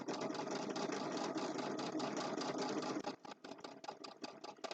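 A sewing machine runs at a steady fast stitching rhythm while sewing a zippered boxed bag, then slows into a few separate, slower stitches near the end, with no talking.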